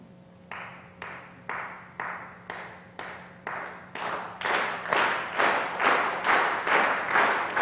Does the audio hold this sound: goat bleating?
no